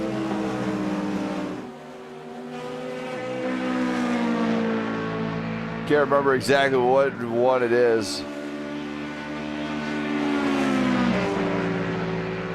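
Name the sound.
Ford Mustang GT3 race car engine roaring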